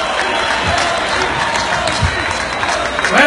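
Crowd applause and cheering at a National Salsa Day concert, dense and sustained from a large audience, with voices mixed into the roar.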